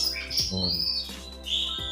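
Kacer magpie-robins sing in a short run of bright, sweeping whistles and chirps, fairly close and clear, with no voices over them.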